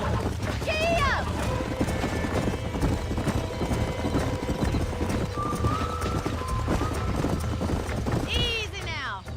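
Horses' hooves clip-clop steadily in the Red Dead Redemption video game, close and loud, with whinnies near the start and end, under a continuous bed of other game sound.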